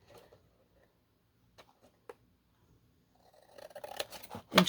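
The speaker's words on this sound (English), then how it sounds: "then we're just going to take our little scissors" Small scissors trim paper from a cookie box along a score line for a no-sew journal project: a few faint snips, then quicker, louder cutting strokes near the end, close and with no talking.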